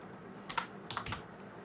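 Keys tapped on a computer keyboard in two short bursts of a few quick clicks, fairly close, in an otherwise quiet room with no talking.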